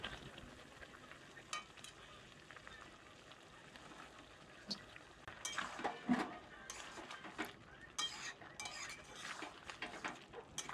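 Fried potatoes stirred into a pot of vegetarian jackfruit biryani with sour curd, giving soft scraping and gentle sizzling with occasional spoon clinks against the pot, louder bursts around the middle, no talking.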